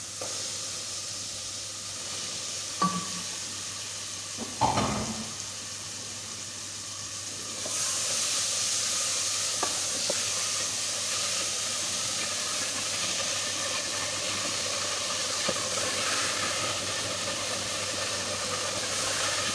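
Fried chicken pieces go into a pan of browned spice paste for a restaurant-style Turkish chicken curry. A couple of metallic clanks come first, then a sudden loud, steady hiss of sizzling that carries on to the end.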